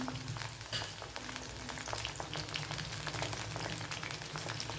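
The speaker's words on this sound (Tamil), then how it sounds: "ஆயில் நல்லா காஞ்சதுக்கப்புறம் நம்ம அந்த வச்சுருக்க கோவக்காய் இருக்குல்லங்க, பரட்டி வச்சது அதை போட்டு எடுத்துக்கலாம்" Ivy gourd (kovakkai) fries in hot oil with a steady, dense crackling sizzle that stays close and even throughout, with no voices.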